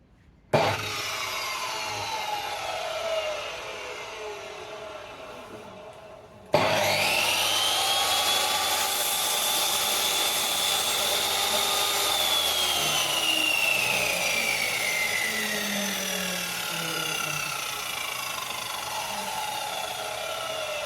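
Mitre saw spinning up and cutting a workpiece at a 45-degree angle, a sharp start followed by a loud sustained whine that rises and slowly falls as the blade bites through, close and alone.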